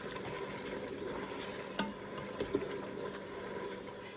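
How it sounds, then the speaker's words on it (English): Jerk gravy sauce is stirred in a Ninja Foodi Deluxe, a quiet bubbling simmer with soft scraping and a few light knocks of the spoon against the pot, close and faint. "Give it a stir."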